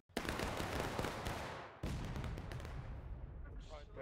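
Massed musket volley in the Civil War game War of Rights, a dense, loud roll of crackling gunfire that breaks out sharply, surges again midway, then thins into a rumbling tail.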